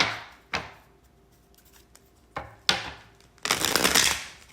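Tarot cards being shuffled by hand: several sharp slaps and snaps spaced apart, then a longer dense riffle of cards near the end, close and fairly quiet.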